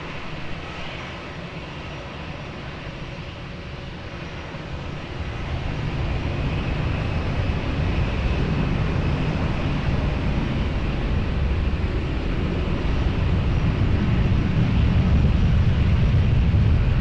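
A Ryanair plane taking off from runway 20 at Lisbon Airport, a steady broadband engine roar that swells after a few seconds and stays loud and continuous, with no talk.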